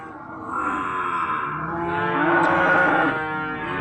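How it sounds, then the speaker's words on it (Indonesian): Beef cattle or a productive breeding cow gives one long, loud, close moo lasting several seconds, swelling slightly in the middle, with no talk over it. "ini dari khusus sapi pedaging dan indukan yang masih produktif"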